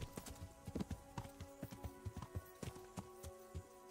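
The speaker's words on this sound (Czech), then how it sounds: "Když je tady jeden kůň." Horse hooves clip-clopping in the video game Kingdom Come: Deliverance, a brisk, even run of close hoofbeats on hard ground with no talking.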